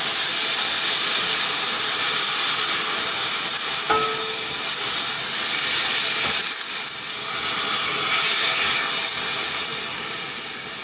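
Chayote sautés in a hot pan with tuna and kale, a loud, steady, broad hiss of frying that swells and eases slightly, with a couple of faint clinks partway through, close and without voices.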